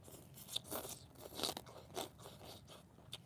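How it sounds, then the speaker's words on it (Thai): Hard, crispy food crunched between the teeth while eating beef noodle soup, a series of close, sharp crunchy bites spaced irregularly over a few seconds, with no talking. "มันแข็งมากครับผม แต่แข็งกิน ได้ ครับผม แข็งกรอบอร่อย"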